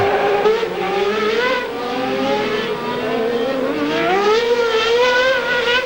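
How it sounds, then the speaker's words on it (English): Gerhard Berger's 1991 Formula One car roars loudly through a qualifying lap in Australia, its high-revving engine climbing and falling in pitch through gear changes with a brief stutter, continuous and close. "Seemed to stutter a bit there, Berger's car."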